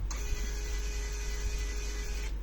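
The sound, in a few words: NIIMBOT D101 portable label printer printing sticker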